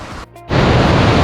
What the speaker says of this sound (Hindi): ये देखिए ब्यूटीफुल, ऊपर से पानी गिरता, कितना सुंदर पानी है।